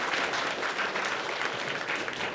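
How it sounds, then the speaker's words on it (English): Sustained applause from a large convention audience at a fan gathering, steady dense clapping filling the whole stretch with no break. "So I want to give him a round of applause."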